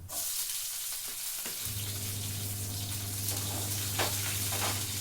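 Ripe red chillies sizzle and crackle in hot oil with a constant, close frying hiss; a low steady hum joins partway through.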